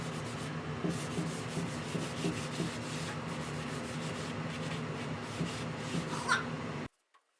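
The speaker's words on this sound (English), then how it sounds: "Make sure to wipe off anything that fell over the edge first, and then start wiping it off." Wood stain wiped off a board with a rag, producing a continuous dry rubbing and scrubbing sound close up, steady for several seconds before stopping abruptly.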